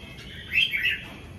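Caged pet birds let out a brief burst of chirps in the middle, moderately close, over a steady low room hum with no talking.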